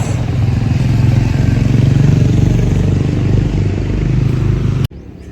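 A motorcycle rides along a highway on a trip from Mumbai to Madhya Pradesh, its engine and wind roar loud and steady at close range before cutting off abruptly near the end.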